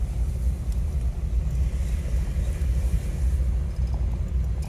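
A car rolling slowly to a stop to pick up a trailer, with a steady low engine rumble and road noise close to the microphone, no talk.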